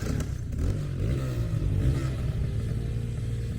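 Motorbikes rev nearby with a thick, continuous low engine rumble and wavering throttle, loud and steady with no talking over it.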